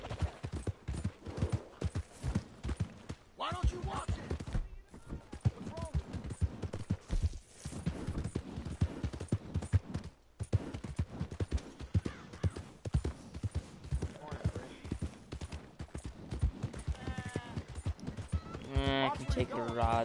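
Horse hooves in the video game Red Dead Redemption, a steady rhythmic clip-clop of galloping running throughout, with brief whinnies and game effects under frequent talk.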